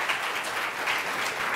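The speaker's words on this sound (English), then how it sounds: "So a big round of applause for our panelists today." Audience applause for a panel at a staff-support talk, a steady dense clapping wash that fills the whole stretch at moderate loudness with no voices over it.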